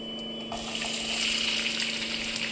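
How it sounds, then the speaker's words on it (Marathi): Onion frying in hot oil with cumin, bay leaf, cardamom, cinnamon and clove, a continuous close sizzle with a few stirring clinks, no talking. "चांगला गोल्डन ब्राऊन होईपर्यंत आपल्याला कांदा फ्राय करायचा आहे"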